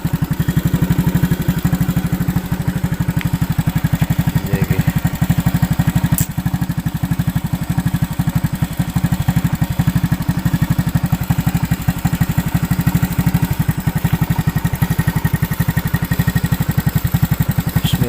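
A motorcycle engine runs steadily and close by for the whole stretch, a loud, even low drone with a clattery pulse, near a campsite at night while the rider deals with a leaking tire.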